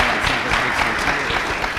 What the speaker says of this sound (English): how about a round of applause for recognizing who we have in the room?